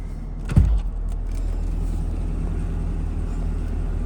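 Sunroof motor working on a 2015 Cadillac CTS-V, starting with a brief thump and then a steady, low, even whir that runs on without a break inside the cabin.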